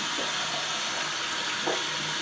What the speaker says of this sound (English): Let the water warm up a little bit.